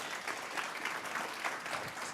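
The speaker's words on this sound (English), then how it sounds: "Could one last round of applause for Dr." Audience applause for Dr. Mann at the close of a keynote on innovation and BRM/PM, a steady dense clapping from a sizable crowd that holds at an even level throughout.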